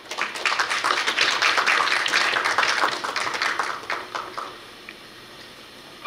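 An audience applauds to welcome a new student at a Korea University graduate school entrance ceremony, a dense wash of clapping from many hands that holds for about four seconds, then thins and fades into quiet room tone.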